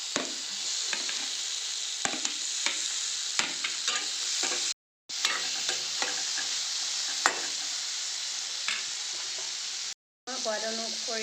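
Chopped tomatoes, green chilies, ginger and garlic sizzle steadily in a frying pan for a mushroom potato dish, with repeated scraping stirs over a constant hiss and two brief breaks in the sound.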